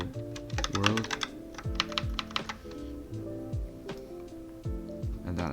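Fingers type rapidly on a computer keyboard, close and clear, in uneven bursts of key clicks that run throughout with no talk over them.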